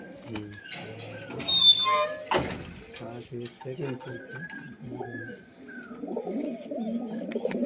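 Domestic pigeons kept by a fancier give soft, intermittent low coos under close, ongoing conversation, with a brief sharp clatter partway through.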